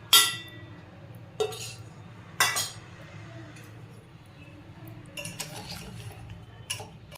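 Amla gooseberry pickle being mixed with chili powder, salt and fenugreek powder, with a handful of sharp metallic clinks and scrapes of a utensil against a pot, spaced apart over a quiet background.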